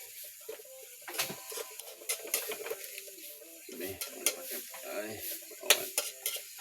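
Eggs fry in a pan with a light sizzle under repeated scraping and stirring, and metal utensils clink against the pan in irregular bursts.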